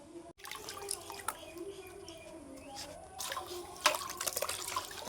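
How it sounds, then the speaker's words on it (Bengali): Mango pieces are washed in water, soft splashing and dripping with a few louder sloshes near the end, faint and close. "আমের টুকরোগুলোকে আমি পাঁচ ছয়বার জল পাল্টে পাল্টে ভালোভাবে ধুয়ে"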